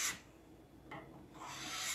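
A spatula scrapes softened old finish off wood after paint stripper on a Duncan Phyfe buffet, giving a gliding raspy rub in two passes, a short one near the start and a longer one later, fairly close with no talk.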